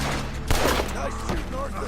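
A Red Dead Redemption 2 night shootout sounds with a dense, loud burst of gunfire over a constant low rumble, and a few voice-like tones come up faintly in the mix.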